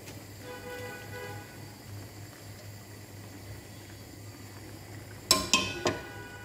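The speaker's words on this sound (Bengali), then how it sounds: "আমি সবগুলি চিংড়ি মাছ ঢেলে দিয়ে দেব।" Prawns for a malai curry tipped into a pan over a steady low simmering hiss, ending with a few sharp metallic clinks and clatters of utensil on the pan, close by.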